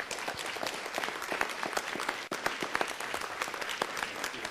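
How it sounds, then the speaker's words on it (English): An audience applauds at a Las Vegas city council meeting, steady dense clapping that fills the room throughout, with only a brief dip partway through. "Give her a nice round of applause."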